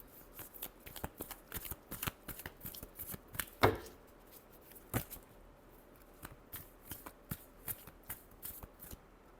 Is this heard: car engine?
no